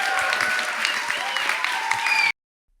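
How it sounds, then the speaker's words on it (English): Live audience applause for the women on an expert panel about scaling consumer packaged goods, a full, steady burst of clapping that cuts off abruptly after about two seconds into silence. "let's give these ladies a round of applause"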